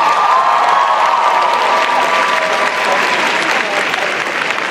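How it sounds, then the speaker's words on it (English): An audience at an anime convention cosplay masquerade contest applauds loudly and steadily, a dense wash of clapping with faint cheers mixed in. "Let's give him one more round of applause."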